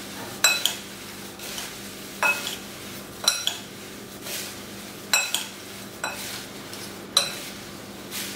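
Chivda, a Kerala snack of flattened rice (aval) mixture, being tossed and stirred in a bowl, with repeated dry rattling scrapes and sharp clinks of the spoon against the rim at roughly one-second intervals, close and fairly quiet, no voices.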